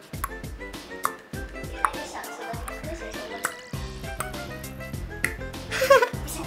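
Someone snaps their fingers, a series of sharp, crisp clicks repeating at an uneven pace over background music and room noise.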